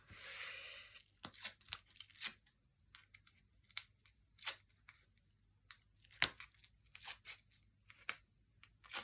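Scissors snipping foam pads for card making, a series of short crisp cuts and paper rustles close by and fairly quiet, irregular in rhythm.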